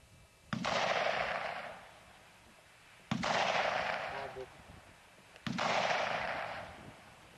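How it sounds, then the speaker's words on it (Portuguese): Three single shots from an FAL rifle firing tracer rounds at a 100-metre range, each a sharp crack followed by a long rolling echo, evenly spaced a few seconds apart. "Vejamos agora o tiro de uma arma já bastante familiar para o soldado, o FAL, a 100 metros utilizando munição traçante."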